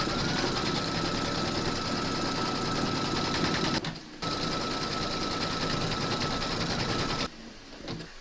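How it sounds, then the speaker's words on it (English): An embroidery machine stitches the second round of an in-the-hoop cuddly penguin, a fast, steady mechanical rattle that stops briefly twice, with no talking. "Pop your hoop into your machine and stitch round number 2"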